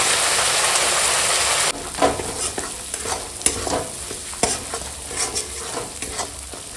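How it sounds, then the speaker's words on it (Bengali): A paste of ground onion and green chili frying in white oil in a home kitchen, starting with a steady loud sizzle that then breaks into crackling spatters and repeated stirring scrapes in the pan, with no voices. "এখানে পেঁয়াজ কাঁচা লঙ্কা একসঙ্গে বেটে নিয়েছি, দিয়ে দিলাম, দিয়ে এখন ভেজে নেব"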